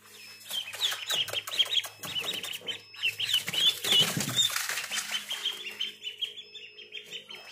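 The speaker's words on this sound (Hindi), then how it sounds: "अभी आपको चूजे दिखाते हैं" Newly hatched duck chicks from an incubator, with busy high peeping calls overlapping continuously, plus wing flapping and some low rustling, close and fairly loud, with no talk.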